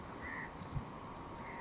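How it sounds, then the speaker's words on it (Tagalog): Pet crows kept outdoors in Shoaiba, Saudi Arabia, giving a few faint, distant caws over a low hiss of background noise. "pinakita ko lang sa inyo itong mga alaga ko dito na mga hayop, yung uwak dito yan sa Sueva"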